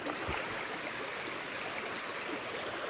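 A creek in Washington State rushes past close by with a steady broadband splashing hiss that holds even and continuous, and no voices are heard.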